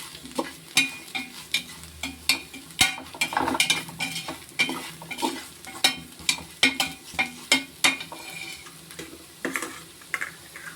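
Mutton biryani masala sautéing in a pan, with a low sizzle under repeated sharp scrapes and taps of a spoon stirring against the metal at an irregular rhythm.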